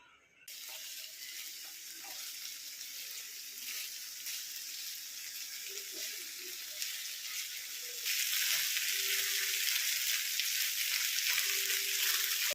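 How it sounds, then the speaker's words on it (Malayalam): Mackerel coated in green pepper paste frying in a pan of oil gives a steady, close sizzle and crackle throughout, growing louder and brighter partway through as the flame is turned back up. "ഇത്ര എണ്ണയ്ക്കകത്ത് തന്നെ ഇത് നന്നായിട്ട് ഫ്രൈ ചെയ്ത് എടുക്കാനായിട്ട് പറ്റും"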